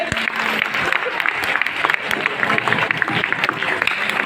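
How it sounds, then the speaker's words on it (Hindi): Steady applause from a seminar audience in a hall for an honoured guest at a DXN anniversary event, continuous dense clapping with some voices underneath. "एक जोरदार ताली होनी चाहिए सर के लिए।"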